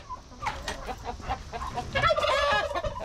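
Ameraucana chickens cluck and call in a farmyard among guineas, turkeys and other fowl, a busy overlapping chorus of bird voices that grows louder toward the end, with no talk over it.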